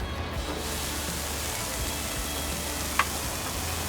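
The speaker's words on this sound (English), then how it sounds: "Listen for that sizzle." Steady broadband sizzling hiss of a New York strip steak searing on a hot grill, continuous throughout with a small tick near the end.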